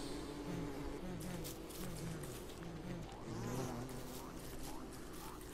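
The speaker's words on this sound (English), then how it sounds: "get them before the bees notice." Buzzing bees in the video game Don't Starve, a steady droning hum that runs through the whole moment at moderate level, with a few brief chirpy game tones layered over it and no talking.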